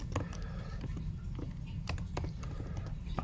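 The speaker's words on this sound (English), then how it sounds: "Can't even type because I'm trying to soft type" Quiet, scattered keystrokes on a computer keyboard, tapped softly and irregularly over a low steady engine rumble inside a truck cab.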